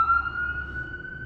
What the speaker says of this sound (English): Some ambulance, thank somebody.